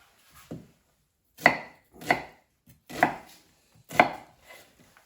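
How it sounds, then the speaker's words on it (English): A knife chops onions into cubes on a cutting board for a homemade potato soup, five crisp separate knocks with short pauses between them, close and clear, no talking. "I'll just slice the onions and chop them into cubes."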